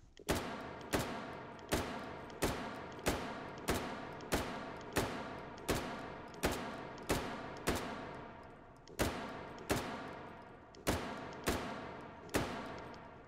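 Twenty-odd evenly spaced single shots from an M16A1 rifle fitted with a 6x scope in the H3VR virtual-reality game, each crack loud and close with a short decaying tail, steady rhythm with a couple of brief pauses.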